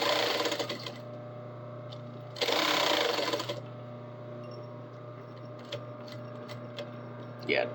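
A sewing machine stitches an Edwardian collar, running in short bursts. A loud rapid whir comes near the middle, with a steady hum and faint clicks between runs.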